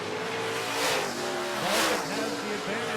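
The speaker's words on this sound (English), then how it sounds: "Scott Bailey race engine on board" A late model race car engine carrying Scott Bailey race engine branding, recorded on board during a dirt-track heat, drones loud and close with rising and falling revs. An announcer talks over the engine.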